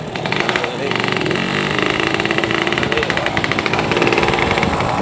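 A drag-style motorcycle on a ride to the market makes a loud, close, rattling engine note with rapid pulsing firing, revving steadily while a person talks over it.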